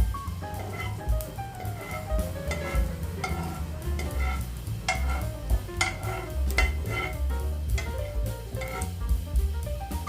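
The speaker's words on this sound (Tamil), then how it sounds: "இப்போ கடுகு நல்லா பொரிய ஆரம்பிச்சிச்சு." Mustard seeds spluttering in hot oil for vendhaya kuzhambu, a run of sharp irregular pops and crackles over a low sizzle, with a few light metallic kitchen clinks.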